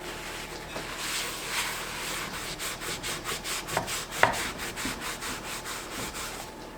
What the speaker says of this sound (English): You're supposed to rub off the rust.